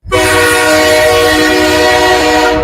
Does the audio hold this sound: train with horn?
yes